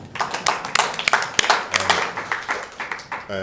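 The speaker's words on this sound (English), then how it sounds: "give yourself a round of applause" A small audience at a heritage center event claps briefly, with distinct individual hand claps audible in a short uneven burst.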